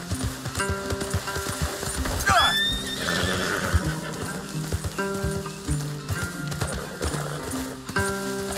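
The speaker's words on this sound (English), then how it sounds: "Leave the horses in the trees there." Horses in Red Dead Redemption 2 give a sharp whinny near the middle over steady clip-clopping hooves, with game music and ambience running underneath throughout.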